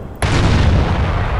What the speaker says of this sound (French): Ils ont un canon de 88!